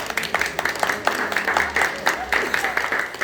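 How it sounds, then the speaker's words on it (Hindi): An audience claps at a small gathering where a guest is being honoured, a moderate scattered patter of hands heard with voices talking over it. "अरे सर जोरदार ताली होनी चाहिए"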